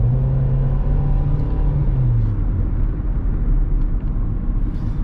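Nissan Sentra on a test drive after a fuel pump replacement, heard from inside as a steady low engine rumble and road noise, with a brief falling engine tone early on.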